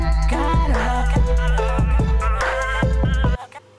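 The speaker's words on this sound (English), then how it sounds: "And with the Fruity filter turned on, it's gonna sound like this." A voice processed through FL Studio's Fruity Filter moves over a steady low beat, with sweeping tonal glides and rhythmic hits, ending abruptly.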